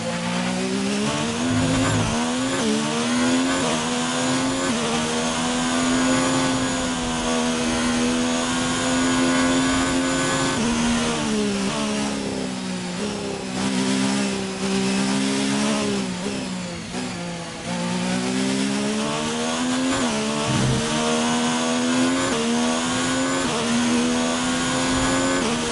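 A Formula 1 race car engine in the F1 2019 racing game screams at high revs throughout, its pitch climbing and dipping through gear changes in a loud, continuous drone with no talk.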